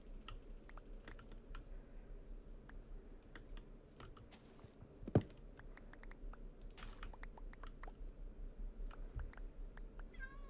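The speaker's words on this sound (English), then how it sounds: "Oh, hello, kitty." A cat meows a few times inside Minecraft gameplay, short faint calls heard over steady computer keyboard typing and mouse clicks.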